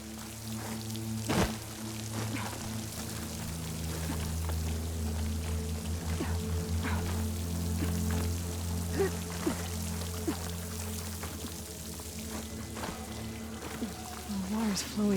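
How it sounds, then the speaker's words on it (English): Water pours and trickles steadily into a hollow in a rock wall beside a waterfall in the game Horizon Forbidden West, a continuous splashing wash under a low ambient hum with a few sharp drips. "The water's flowing into the wall."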